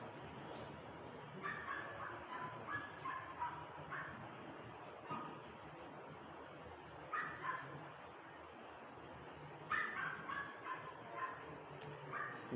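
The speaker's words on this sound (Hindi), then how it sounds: "जब भी मैथ का लेक्चर होता है ये ऊपर जरूर भौंकता है" A dog barks from upstairs during a math lecture, sounding as repeated short yips and barks in scattered bursts, muffled and fairly distant, over a steady room background.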